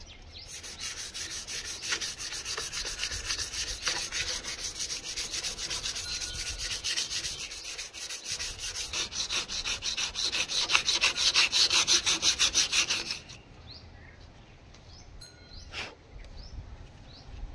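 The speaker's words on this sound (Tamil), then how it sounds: "கம்ப்ளீட்டாக உப்புத்தாள் வச்சு தேய்ச்சி எடுத்துகிட்டு கண்டினியூ பண்ணுறேன்" Sandpaper rubbed by hand over a Mahindra tractor part, a steady close rasping scrub for about thirteen seconds that then stops, leaving faint outdoor ambience with light knocks and bird calls.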